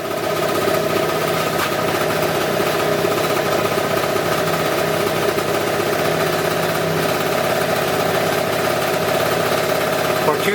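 A two-stroke scooter engine idles steadily at about 1850 RPM, a constant buzzing pitch, close and loud, with no change in revs throughout.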